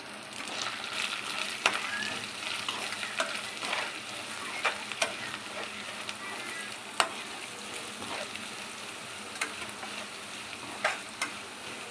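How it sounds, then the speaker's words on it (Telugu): Semiya frying in a pan with turmeric for tomato upma, a continuous soft sizzle punctuated by a dozen or so sharp clicks of a spoon stirring against the pan at an irregular pace. "ఇలా ఫ్రై చేసుకున్న తర్వాత హాఫ్ స్పూన్ పసుపు వేసుకొని ఇది కూడా ఫ్రై చేసుకోవాలండి"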